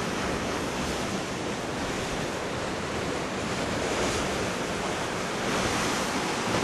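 Ocean waves wash steadily onto a small private inlet beach, a continuous broadband surf roar with some wind buffeting on the microphone and no speech.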